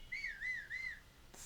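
Link whistling in Zelda: Breath of the Wild, three clear rising-and-falling warbled notes in quick succession over faint background hiss, ending with a short soft click.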